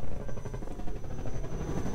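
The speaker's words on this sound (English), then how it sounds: "Oh, the chopper's there." A helicopter gunship in Half-Life 2 VR gives off a loud, steady rotor roar with a thin whine running through it, filling the whole short stretch.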